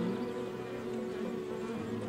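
Bees buzz in a steady continuous drone, close and fairly loud, with no speech over it.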